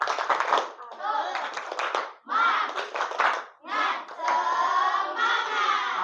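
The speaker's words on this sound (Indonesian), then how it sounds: "Tepuk semangat." A school class doing a rhythmic spirit clap, groups of children clapping in patterned bursts mixed with loud chanted voices, close and energetic, with short pauses between phrases.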